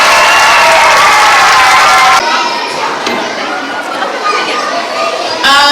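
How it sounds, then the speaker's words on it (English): Applause and crowd noise fill the room, dense clapping with chatter and children's voices, shifting character partway through. "really big round of applause"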